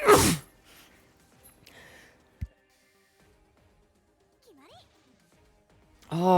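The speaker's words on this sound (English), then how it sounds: "sneezing just fucking hurts so bad" A person sneezes loudly and close up, one sharp burst at the start, followed by quiet breathing and a muffled thump, with a second sneeze building at the very end.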